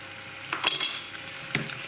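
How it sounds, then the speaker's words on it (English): Chicken pathia curry with base gravy sizzling in a pan as it is stirred, with a few soft scrapes and clinks of a utensil against the pan over a steady low frying hiss. "Give it another stir."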